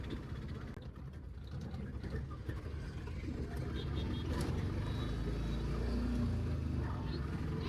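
Small motorcycle engine droning steadily while riding through a village chariot festival, rising slightly as gears shift, with loud continuous rumble and voices talking over it.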